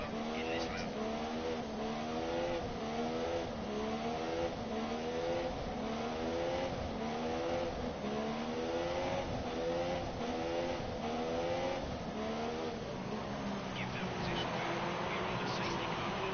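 Race cars accelerating at a safety car restart in an Italy career-mode racing game, engines revving up through repeated gear shifts in a rising, stepping whine, with someone talking over the engine noise.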